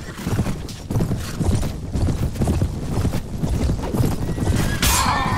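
Horse hooves in the video game Mount & Blade: Warband clatter in a loud, fast, continuous gallop, with a neigh or whinny and some metallic combat noise near the end and no talk.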